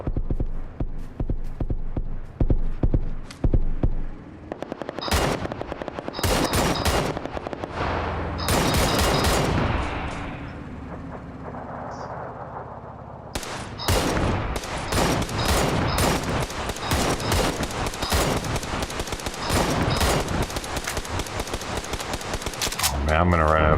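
Gunfire in the video game PUBG, rapid automatic bursts and dense volleys crackling loudly, with brief lulls between strings of shots.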